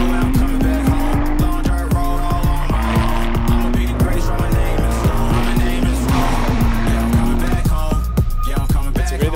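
Race car running on a circuit during pre-season testing at Misano, its engine loud and close with rising and falling revs, repeated gear changes and occasional tire squeal, alone without talk.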